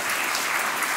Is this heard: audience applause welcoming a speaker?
yes